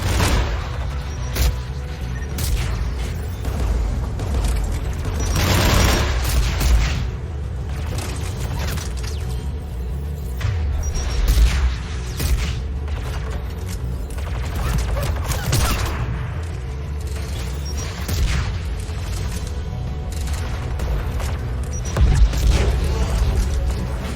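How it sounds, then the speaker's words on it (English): Anti-aircraft gun in the video game Mass Effect 3 firing amid a dense, continuous mechanical din of rattling, clanking and booming reports, steady and loud throughout with heavier bursts at intervals. "There, the anti-aircraft gun."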